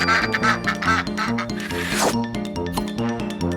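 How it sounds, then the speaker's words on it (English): A little cartoon duck quacks in a short burst of bright, playful calls over cheerful looping background music, with no one speaking. "It's a little duck."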